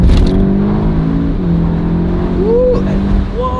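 Volkswagen Golf 7 GTI TCR accelerating hard, a loud, close engine drone rising in pitch through the gears with a brief dip at a shift, filling the cabin without pause.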